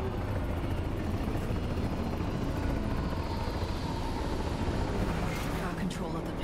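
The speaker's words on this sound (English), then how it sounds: "US combat choppers buzzing the free city of NC" US combat helicopters fly over a city in Cyberpunk 2077 with a continuous, loud, close rotor thrum and engine roar. A voice talks over the noise.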